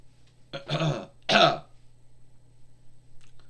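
Two rough throat clearings in quick succession, close and fairly loud, followed by quiet background hum.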